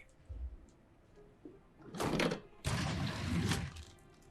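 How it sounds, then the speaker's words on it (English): A hidden door slides open in the video game Hitman III. A low thunk and a soft click come first, then two scraping, grinding slides of the heavy panel moving along its track. "A hidden door."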